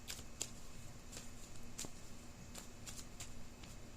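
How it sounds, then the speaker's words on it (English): A tarot card deck is shuffled in a quiet room, giving soft, faint riffling and several crisp card snaps at irregular intervals over a low background hum. "So let me shuffle this deck one more time"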